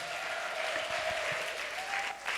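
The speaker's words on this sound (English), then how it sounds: "So let's give them a round of applause" At an alumni association convention meeting, a crowd applauds steadily in a large room, the clapping moderately loud and continuous.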